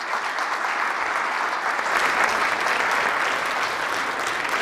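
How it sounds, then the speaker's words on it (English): An audience at an MIT medical meeting gives sustained applause, a dense, even wash of many hands clapping for several seconds without pause. "So applause to all of you."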